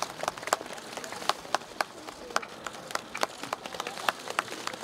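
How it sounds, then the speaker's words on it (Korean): Sparse, scattered clapping from a small outdoor crowd at a reenactment of the Gyeongbokgung Palace gatekeeper appointment ceremony, individual claps audible at an uneven pace, moderately distant and fairly quiet. "큰 박수 부탁드립니다."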